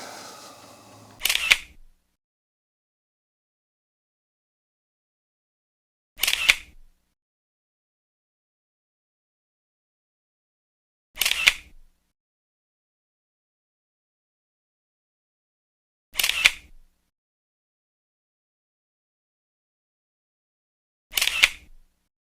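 Camera shutter firing five times at even intervals of about five seconds, each a crisp, close mechanical click-clack separated by near silence, while photographing a 1990 Kawasaki ZZR1100 engine's lower cases.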